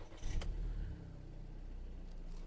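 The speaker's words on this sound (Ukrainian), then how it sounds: "Хочу, щоб ви почули, як тихенько заводиться мотор і працює." A Skoda Octavia car engine turns over and settles into a low, steady, quiet idle.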